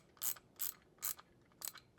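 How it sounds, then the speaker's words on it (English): A socket wrench with a 17 mm socket tightens battery terminal nuts during a battery disconnect switch install, making four short, crisp ratcheting bursts at a steady rhythm, close by, with nothing else in between. "this is where we're going to use our socket wrench just to tighten these down"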